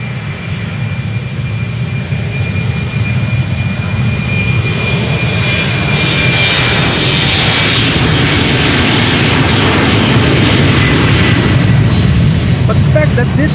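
A jet airliner bound for Copenhagen takes off from the Polderbaan runway at Schiphol, its engines roaring loud and close throughout as the thunder builds steadily toward the end.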